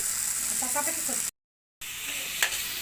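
A spice paste with ground cumin sizzles and spits in a hot pan for a Bengali taro-leaf dish, a steady frying hiss that briefly cuts out before resuming, with a faint scrape of stirring.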